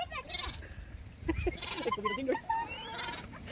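Goats at a farm-animal area on the Landgoed Ruwinkel estate in Scherpenzeel give repeated close, loud bleats, mixed with people speaking and chattering nearby.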